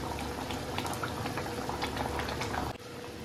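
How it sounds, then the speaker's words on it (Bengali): Rohu fish curry with spicy gravy boiling steadily in a pot, a continuous close bubbling simmer that drops slightly near the end. "মাছের ঝোলটা ফুটে গেছে,"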